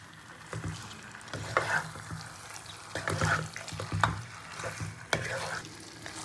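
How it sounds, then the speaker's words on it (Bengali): Chicken being stirred with spices in a hot pan over a high gas flame: a continuous close sizzle broken by irregular scraping and clinking strokes of the spoon against the pan. "এইভাবে মশলার সঙ্গে খুব ভালো করে নাড়াচাড়া করে নিতে হবে চিকেনটাকে"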